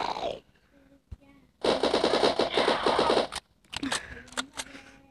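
Rapid automatic gunfire bursts from a zombies shooter video game, loud and close, with a long sustained stream of shots in the middle, preceded and followed by shorter bursts and game effects, no talking over it.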